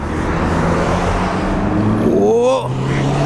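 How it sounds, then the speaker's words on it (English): Small Chevrolet Aveo engine heard from inside with the window down, a steady low hum that builds as the car pulls away, with road and wind noise and a brief voice over it. "let's leave our window down so we can actually hear what the motor sounds like"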